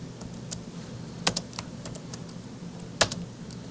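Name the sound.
typing on a computer keyboard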